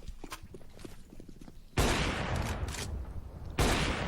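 Counter-Strike gunfire: soft distant shots and footsteps give way to two sudden, loud close bursts of rapid fire that ring out and sustain.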